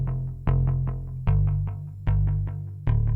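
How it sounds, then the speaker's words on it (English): A bass guitar line from an Ableton-produced instrumental, loud and alone: plucked notes in a steady repeating rhythm over a sustained deep low end, with regular stronger attacks roughly every eight-tenths of a second. "Next we have my bass guitar that I added."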